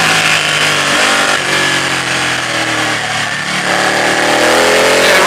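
Ducati 899 Panigale superbike engine under way on an open road, a loud continuous mid-pitched drone with rising and falling rev sweeps and wind rush, with no talking.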